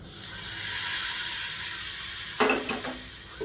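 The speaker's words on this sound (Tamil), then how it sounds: "இப்போ எப்பயும் போல் கடுகு, உளுந்து, கருவேப்பிலை, பெருங்காயம் தாளித்து கொட்டிக்கலாம்." Mustard seeds, urad dal, curry leaves and asafoetida crackle in hot oil for a tomato chutney tempering, a steady loud sizzle throughout, followed near the end by a brief stirring splash as the tempering is poured in.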